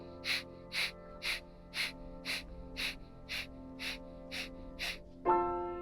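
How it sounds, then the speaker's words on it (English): Alternate-nostril breathing practice: nine short, sharp nasal exhales through the right nostril come in a steady rhythm, close and clear, followed by a brief voiced sound at the end. "closing the left nostril and breathing out through the right"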